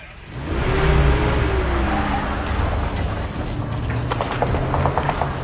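Cars driving together in a convoy through a shelled street, heard as a close engine rumble from inside a vehicle rising quickly then holding steady, with rattling, clicking mechanical noises toward the end.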